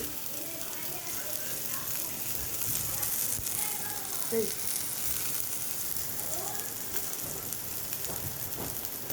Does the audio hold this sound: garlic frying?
yes